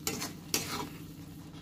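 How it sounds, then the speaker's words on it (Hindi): Bell pepper frying with MDH masala in a pan, heard as a soft, steady sizzle broken by a few sharp scrapes of a spoon stirring against the pan. "डाल करके इसको पूरा भून लेते हैं अच्छा से"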